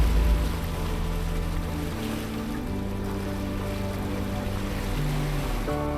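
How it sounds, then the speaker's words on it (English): A truck fords a creek in the Owyhee backcountry near Birch Creek Ranch, with a steady engine drone and a constant rush of churning water, close and continuous with no voices. "we approached our last water crossing for the day"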